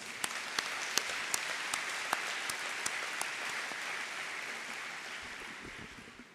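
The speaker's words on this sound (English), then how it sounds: "Please join me in giving them a huge round of applause." Audience applause at the Open Government Partnership Global Summit, a sustained, dense wash of clapping from a large crowd, steady and moderately loud, with a few sharper individual claps standing out before it slowly fades.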